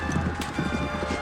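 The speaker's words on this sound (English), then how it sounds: "General Jack Seeley and his horse Warrior ride into the storm, red pennant in hand, the squadron thundering close behind" Horses of a First World War cavalry squadron charging, a steady run of pounding hoofbeats that repeats through the whole stretch over a low constant rumble, loud and close with no voices on top.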